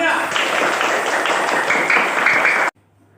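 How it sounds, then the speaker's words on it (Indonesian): A classroom of pupils claps together for encouragement. The loud, brisk and fairly even applause runs for under three seconds and then cuts off abruptly into near silence. "saya minta tolong tepuk tangan untuk semangat hari ini semuanya"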